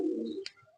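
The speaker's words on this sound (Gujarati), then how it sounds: "કબૂતર હે અમારી પાસે." A single soft, low coo from a pet pigeon, Saharanpuri or desi breed kept at home, sounds close and brief before fading to quiet.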